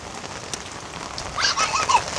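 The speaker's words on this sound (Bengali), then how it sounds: "1 সেকেন্ডের জন্য বৃষ্টি বন্ধ হয় নাই" Heavy rain falling steadily on surfaces around a yard with ducks and chickens, a dense pattering hiss with a few sharp drop hits and chirpy bird calls rising near the end.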